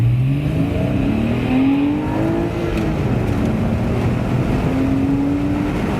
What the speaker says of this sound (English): Oh, listen to that beautiful direct injection flat six.